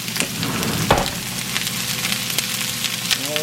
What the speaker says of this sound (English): Taking all of these onions, and putting it right inside the pot, the pan.